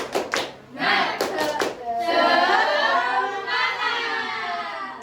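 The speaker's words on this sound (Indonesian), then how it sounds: "Tepuk semangat." A class in an Indonesian classroom performs a rhythmic clapping chant, a few sharp patterned claps followed by children's voices chanting together loudly in unison.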